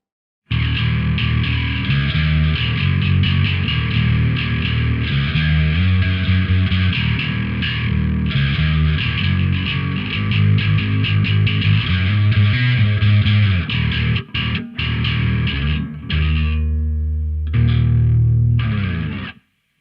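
A bass guitar through a Microtube X overdrive pedal plays a steady, gritty riff with a thick, fuzzy edge, loud and close, before cutting off at the end.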